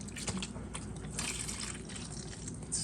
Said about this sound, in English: Actually got a little bit of antifreeze on my head right now because it was just splashing